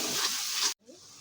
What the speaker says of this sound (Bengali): এবার পুরো মিশ্রণটাকে ভালোভাবে কষবো আমরা